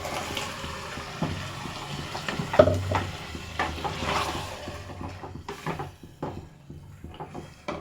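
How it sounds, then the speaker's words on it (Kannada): Ground masala for a village-style chicken biryani sizzles and fries in a hot pan, with stirring scrapes and soft bubbling, a sharp clink near the start, and the sizzle easing toward the end, close and fairly quiet with no talk. "ಆವಾಗಲೇ ರುಬ್ಬಿ ಇಟ್ಕೊಂಡಿದ್ನಲ್ಲ ಆ ಮಸಾಲೆನ ಹಾಕ್ತಾಯಿದ್ದೀನಿ."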